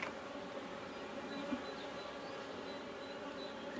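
Honeybees buzzing around an open hive frame during a smoking inspection, a faint, steady hum of many insects at close range with no speech.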